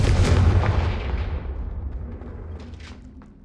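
A Confringo fire spell blasting a brazier in Hogwarts Legacy lands as a loud booming explosion that rumbles and fades over a few seconds, with faint crackling debris near the end.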